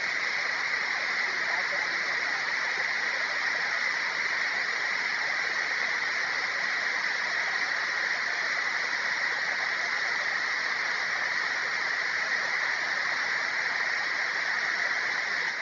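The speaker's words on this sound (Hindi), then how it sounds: "अभी भी पानी बहा थे वो साइड" Water rushing over large, slippery rocks along a rugged stream, a constant dense roar at steady volume throughout, with no distinct splashes standing out.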